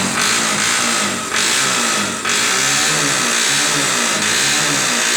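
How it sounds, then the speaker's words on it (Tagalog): A Barako motorcycle engine, rebuilt after a wiring fault, runs steadily with a deep, rough, bulldog-like rumble. It is loud and close, with brief dips in level, and no one speaks. "Ito yung gulog ng makina."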